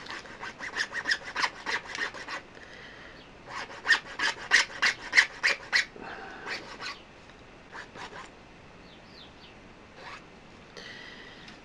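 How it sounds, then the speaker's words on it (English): A metal file rasps in short bursts of rapid strokes across a giant rod ring, crisp and close, with pauses between the bursts. "Right, so I'm now going to file it."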